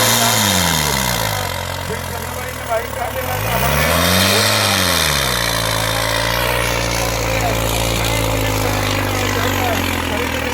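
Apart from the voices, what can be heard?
modified jugaad tractor engine running at a competition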